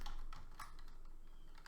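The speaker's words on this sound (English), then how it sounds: "So I type a range" Close, quick keystrokes on a computer keyboard while entering a cell range into a spreadsheet, a few sharper clicks standing out over a steady faint background, no voices.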